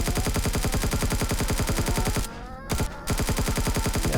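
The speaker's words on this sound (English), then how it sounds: "Let's try the assault rifle for fun on these guys." Rapid automatic assault rifle fire in Empyrion, a dense, loud stream of evenly spaced shots that breaks off briefly for about half a second before resuming.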